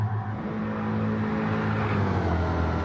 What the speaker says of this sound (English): sounds like he's really riding the gears out, like he's not shifting early